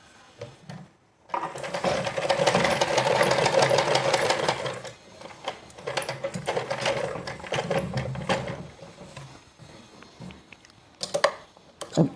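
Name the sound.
sewing machine stitching buttons on kurti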